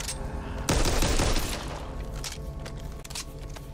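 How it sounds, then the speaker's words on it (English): Gunfire in the Back 4 Blood video game, a sudden loud burst of rapid shots lasting under a second, followed by continuing game noise and scattered lighter impacts. "Watch where you're shooting!"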